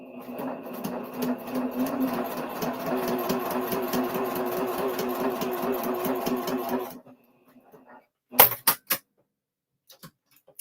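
A Bernina sewing machine stitching a paper-pieced quilt block, steady fast mechanical whirring and clicking for about seven seconds, close and clear, then stopping, followed by a few sharp clicks and taps.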